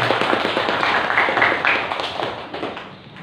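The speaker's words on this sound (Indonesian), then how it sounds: "Tepuk tangan untuk SMA Negeri" Students clapping together at an Indonesian high school assembly, a dense, steady burst of hand claps that stays loud throughout and tapers slightly at the end.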